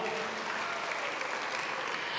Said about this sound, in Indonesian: Bagi tepukan satu kali lagi.